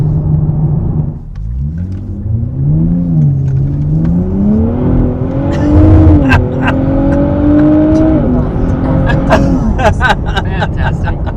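A 2023 Nissan Z Sport's engine and stock exhaust rev close by, climbing in pitch through a long pull, easing off, then rising again before settling, over a steady low rumble.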